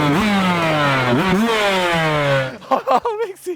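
A dirt bike built on a Yamaha 250 YZF chassis with a Honda 500 CR engine revs hard and loud up close, climbing in pitch twice before dropping off into a few sputtering, popping blips.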